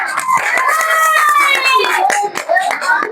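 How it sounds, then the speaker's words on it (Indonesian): Schoolchildren in an elementary classroom clap for a presenting group, quick uneven claps under bright children's voices and cheering that run over most of the moment. "Beri tepuk tangan dulu buat kelompok 4."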